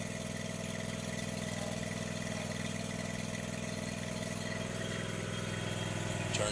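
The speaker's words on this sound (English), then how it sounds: "engage your brake, shut down the mower" Riding lawn mower engine idling on a trailer, a steady, even mid-pitched rumble throughout, unchanging and alone.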